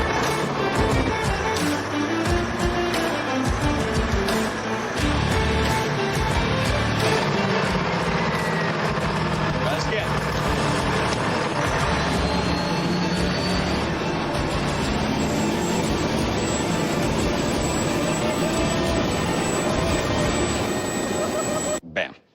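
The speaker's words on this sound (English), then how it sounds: "tank drives perfectly." Tank engine running hard on a test drive, a loud continuous mechanical roar with rumbling low drone and whining tones, steady throughout before cutting off at the end.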